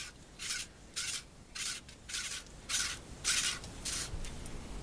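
A plastic tube is pushed onto the flashlight of an ice fishing tip-up, giving a run of about eight short, close rubbing scrapes in a steady rhythm, with no talking.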